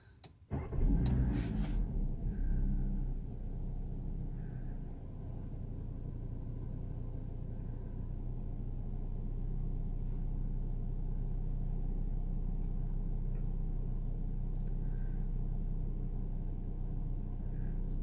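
A car engine cranks with a few sharp bursts, then settles into a deep, steady, rough rumble that barely rises as it struggles to get going, loud and close with no talking.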